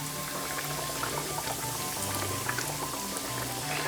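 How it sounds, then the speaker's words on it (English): Pork chops frying in about an inch of hot oil, a steady soft crackle and bubbling sizzle at close range, low and continuous with faint clicks throughout. "Let's put our pork chops in. I have my oil up to about 130 degrees."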